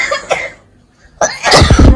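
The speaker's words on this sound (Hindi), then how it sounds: "मम्मी को, बच्चों को, सबको खांसी हो रही है" A family member in a home kitchen coughs twice, close and loud: a short burst, a pause, then a longer harsh fit at the end.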